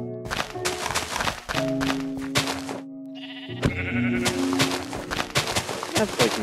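Repeated Minecraft sheep bleats over game music and thuds, with a stretch of brief quiet in the middle.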